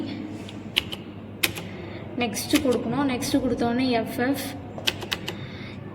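Keys on an 8051 microcontroller kit keypad are pressed to enter opcodes for a DC motor program, giving sharp isolated clicks and taps in small bursts while someone speaks over them.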